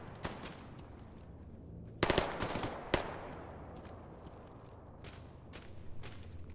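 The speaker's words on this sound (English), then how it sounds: "There's so much shooting." Gunfire in the shooter STALKER: Gamma, a few sharp single shots, then a loud rapid burst of automatic fire and more scattered shots fading off, over a quiet background with no talk.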